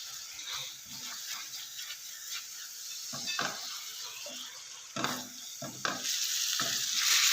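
Kaleji (liver) masala fries and is stirred in a pan for an Eid dish, making a continuous crackling sizzle with repeated scraping stirs and clanks that grow slightly louder toward the end, with no voices.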